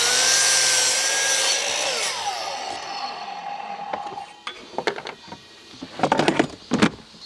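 A Stanley SM18 sliding miter saw spins up and slices straight across a piece of wood with a loud whine, then winds down, followed by a few sharp knocks and clatters as the workpiece is handled nearby.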